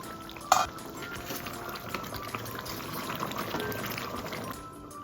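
A pot of mutton bubbles and simmers steadily on the stove, with one brief sharp clink near the start.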